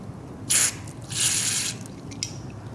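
Carb cleaner sprays through a thin tube into the pilot jet of a Mikuni carburetor from a Yamaha Banshee, giving a short hissing burst followed by a longer steady hiss and a brief final puff, close up.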